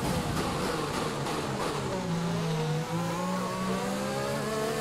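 An F1 car on a flying hot lap in the F1 2020 racing game, its engine screaming loud and continuous with rising and falling revs through gear changes and corners, a brief dip near the end.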